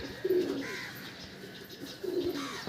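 A Pakistani teddy pigeon in a loft collection gives two soft, low coos about two seconds apart, faint and fairly close, with a quiet background and no talk.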